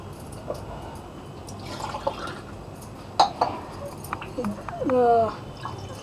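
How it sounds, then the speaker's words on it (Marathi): Water poured into a pressure cooker for boiling pigeon pea lentils, dripping and splashing with a rising fill and light metallic clinks, close by, partly under a speaking voice. "ती उकडत घालूया आपण कुकरमध्ये आपण पाणी घालायचं आहे"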